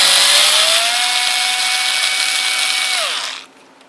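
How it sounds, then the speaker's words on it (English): A power screwdriver whines loudly and steadily while unscrewing a Torx screw on an Xbox 360 Slim, then winds down and stops after about three seconds. "so simply unscrew it."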